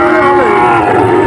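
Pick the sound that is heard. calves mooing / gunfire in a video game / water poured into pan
calves mooing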